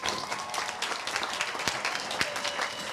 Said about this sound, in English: let's give the class of 2014 a round of applause